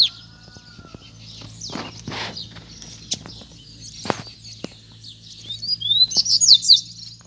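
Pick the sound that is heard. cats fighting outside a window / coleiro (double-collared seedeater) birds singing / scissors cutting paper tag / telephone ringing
coleiro (double-collared seedeater) birds singing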